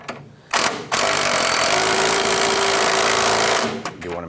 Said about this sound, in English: Let's go ahead and tighten down this nut from the inner tie rod to our center link.